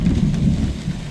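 Heavy rain pounds down steadily and loudly during a thunderstorm chase, with a dense continuous roar and deep low rumble, close and unbroken with no voices.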